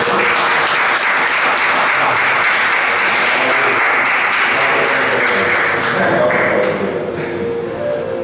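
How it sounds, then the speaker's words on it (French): Sustained applause from a large church congregation fills the whole stretch, loud and steady, with a few voices faintly under the clapping. "est-ce qu'on peut vraiment nous donner un applaudissement pour dire notre Seigneur pour notre frère"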